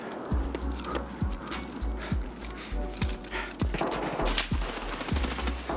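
Gunfire in the video game Escape From Tarkov, a string of sharp separate shots about one per second at moderate distance, followed by denser rapid shots toward the end.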